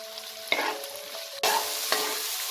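Beans and broccoli stirred and fried in a pan for dalia khichuri, with a steady sizzle and two sharp bursts as vegetables drop in and the spatula scrapes, no voices.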